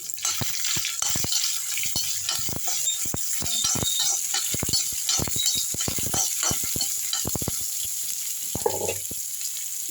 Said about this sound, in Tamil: இதில் வந்து கொஞ்சமாக இந்த அரை வெங்காயம் அதை போட்டு வதக்கலாம்